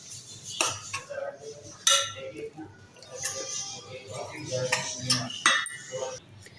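Chicken tikka marinade with lemon juice is mixed in a bowl, with intermittent clinks and scrapes of a spoon against the dish and soft squelching, under someone talking quietly.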